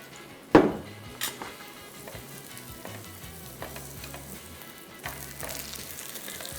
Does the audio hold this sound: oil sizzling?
yes